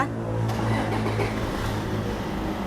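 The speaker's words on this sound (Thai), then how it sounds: "ขอสตาร์ทเครื่องยนต์ให้คุณลูกค้าฟังเสียงกันนิดนึงนะคะ" A 2013 Toyota Hilux Vigo double-cab pickup truck engine turns over and settles into a steady, rumbling idle, close by and continuous with no talking.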